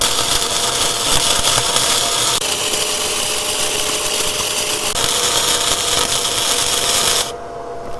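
A Weldinger ME 130 Mini Flux 130-amp inverter flux-core wire welder burns a bead on a thicker, already dirty piece of metal, giving a loud, steady crackling hiss with a faint tonal hum that stops abruptly near the end.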